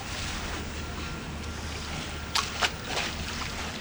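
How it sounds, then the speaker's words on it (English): River Thames water gently lapping against stone steps beside an obelisk on a London embankment, a steady soft wash with a few brief splashes near the end, low and continuous outdoors. "You can hear the Thames gently lapping on the steps by the obelisk here"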